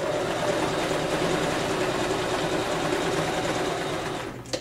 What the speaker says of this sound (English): we're coming around to the front part where we started sewing